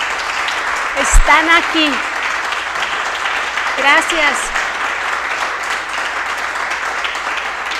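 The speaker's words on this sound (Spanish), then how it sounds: "dense un aplauso por favor" A church congregation's in-person applause rolls on steadily through a Sunday celebration service while someone speaks over it briefly.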